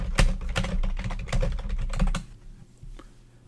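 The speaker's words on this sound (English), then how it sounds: "This brings up a box where you can type in your note text." Quick, close keystrokes clatter on a Mac keyboard in a brisk run for about two seconds, then stop, leaving faint room noise.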